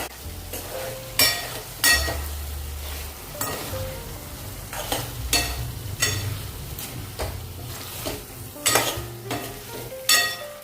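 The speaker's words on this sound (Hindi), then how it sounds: "एक बार और से मिक्स कर लेंगे।" A spoon scrapes and knocks around a pan of potato Manchurian tossed with Maggi masala, sharp clinks recurring every second or so over a low, steady sizzle, close and with no voices.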